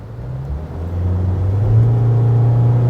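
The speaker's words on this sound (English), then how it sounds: "the 3-liter turbo diesel pulls hard, you know, it pulls hard, it's grunty, and yes, it lets you know it" The 3-liter turbo diesel of an Isuzu D-Max LS-E 4x4 automatic revs up, a loud, gruff low rumble that climbs in pitch and volume after the first second, then holds strong.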